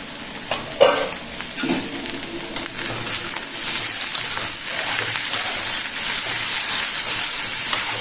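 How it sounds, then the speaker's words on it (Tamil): Onions sautéing in a pan for coconut kurma crackle in a steady close sizzle, with a few sharp clinks of a spoon near the start. "நல்லா வதங்கட்டுங்க. வெங்காயம் நல்லா வதங்கிடுதுங்க."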